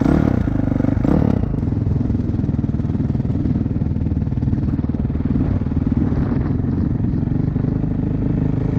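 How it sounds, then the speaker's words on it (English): A motorcycle engine drones loud and close with a steady rattling throb while a rider holds a wheelie across the flat Bonneville Salt Flats, the pitch holding fairly constant throughout. "we're gonna do a wheelie competition"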